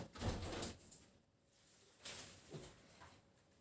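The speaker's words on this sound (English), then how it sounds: "I'm just going to close the door" An indoor door is pulled shut during a Pilates class, with a couple of soft thuds and sliding scrapes, fairly faint, separated by a quiet pause.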